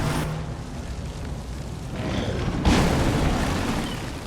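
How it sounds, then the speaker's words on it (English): An explosive tank blows up in the strategy game XCOM 2, a deep rumbling boom that swells and then lingers, with no talk over it. "Why did it fucking explode?"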